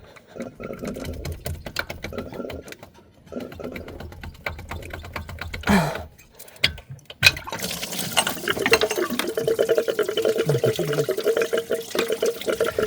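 Coolant drains from a car's belt-driven water pump into a small jar set underneath, a steady close trickle and splash that runs on and grows louder and fuller toward the end, with brief handling knocks midway.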